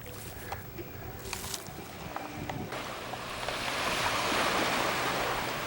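Surf rolling onto the sand at the north end of the beach on Caladesi Island, a steady hiss of breaking waves that swells louder toward the end, with wind buffeting the microphone and no voices.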